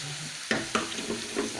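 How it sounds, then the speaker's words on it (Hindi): Chopped turnips drop into a pan of frying masala with two quick sizzling bursts, then the crackle continues as the pieces are stirred. "मसाला तैयार हो चुका है, और अब इसमें सारे शलजम कटे हुए हम डाल देंगे।"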